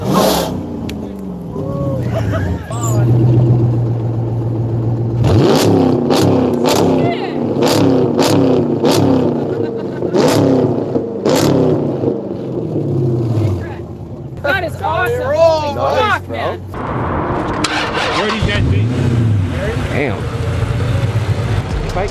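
Chrysler 300 SRT8 with a Flowmaster cat-back exhaust and open cutout revving hard in a series of sharp, loud blips, outdoors with people talking throughout.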